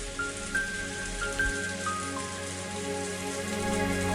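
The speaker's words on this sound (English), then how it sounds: "The rain fell down. The rain of sadness dripped down the outer walls of the chapel" Steady rain patters in an Umineko visual novel scene, falling quietly against the outer walls of a chapel, a soft continuous wash with no voices over it.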